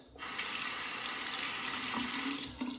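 Tap water gushing into a sink to rinse a razor after shaving, a steady, close, full splashing rush lasting nearly three seconds before easing off at the end.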